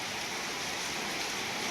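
Steady rain falling hard on a rambutan orchard in Kerala, a dense even hiss filling the short stretch with no voices over it.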